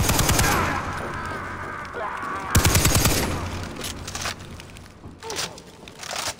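Light machine gun in Far Cry 3 firing in long rattling bursts, loud and close, with a second heavy volley partway through and some crunching impacts, over game background noise.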